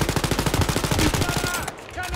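Rapid automatic gunfire in the video game Wolfenstein: Youngblood, a dense stream of loud shots for about a second and a half with voices over it, then stopping abruptly.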